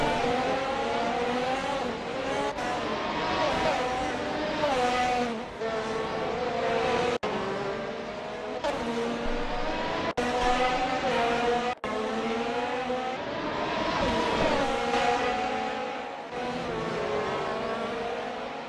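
Race cars roar continuously around a circuit, engines droning and shifting pitch as they pass in a bunched midfield pack, loud and sustained with no pauses.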